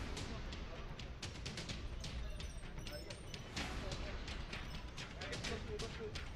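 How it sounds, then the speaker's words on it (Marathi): Rapid crackling bursts of firecrackers going off continuously at a political party workers' celebration with gulal, sharp pops layered over a noisy crowd with voices in the background. "कार्यकर्त्यांकडून गुलालाची उधळण आणि फटाक्यांची आतषबाजी करण्यात आली आहे।"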